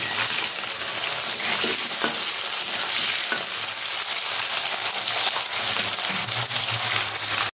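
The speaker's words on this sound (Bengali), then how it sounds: "তো আলুটা আমি এখন ভেজে নেব, আলুটা ভেজে নেব ভালো করে।" Thin, long-cut potatoes frying in hot oil: a loud, continuous close sizzle with crackling and repeated stirring scrapes, no one speaking.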